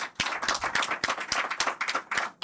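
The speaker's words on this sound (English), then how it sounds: "I'd like to ask for a round of applause for our student panelists" Audience applause at an education conference honouring a student panel, a dense run of many hands clapping with sharp individual claps standing out, steady and close, stopping abruptly at the end.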